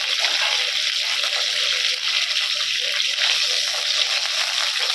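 Green chili, coriander and curry leaves crackle in very hot oil, giving a loud, steady, bright sizzling hiss that runs without a break for five seconds.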